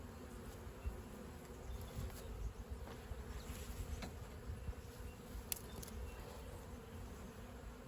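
Honeybees swarm around an open hive during a spring inspection in Australia, their dense, steady buzz filling the air close by, with individual bees whining past now and then.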